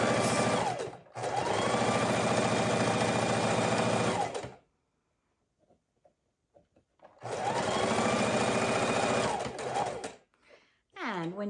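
A sewing machine stitches a fidget quilt in two long steady whirring runs separated by a quiet pause of small clicks, close and clear, with no speech over it.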